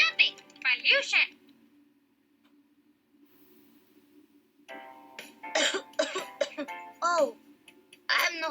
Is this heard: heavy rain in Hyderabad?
no